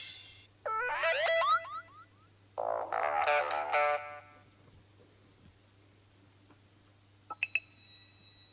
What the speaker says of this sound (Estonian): ja see on see vaike helin teadete jaoks.